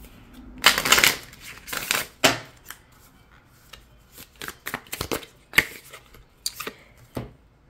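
A deck of advice cards being shuffled in a quiet room, with a few loud riffling bursts early on followed by scattered crisp card flicks and slaps.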